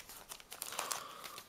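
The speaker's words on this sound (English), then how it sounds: "we're gonna shuffle up the packs just a little" Yu-Gi-Oh booster packs are shuffled by hand, their foil wrappers giving a soft, continuous crinkling and rustling for about a second and a half, close but faint.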